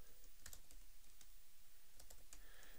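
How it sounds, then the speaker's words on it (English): Keys clack on a computer keyboard while values are entered into an income statement spreadsheet in Excel, a quick irregular run of light, close taps with brief pauses and no talking. "Type in a couple of values"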